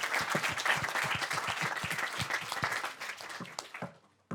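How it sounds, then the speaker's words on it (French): A small quiz-game audience applauds a contestant. Sharp, distinct claps come close together at a steady pace, then thin out and stop near the end. "On l'applaudit"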